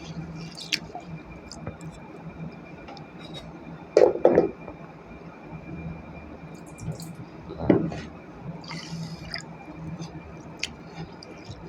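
Gobindobhog rice being washed by hand in water, a quiet steady swish with two louder squishy sloshes a few seconds apart, no talking.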